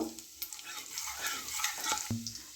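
Chopped garlic stirred and frying in oil in a pan, a steady close sizzle with brief scraping stir sounds, no talking.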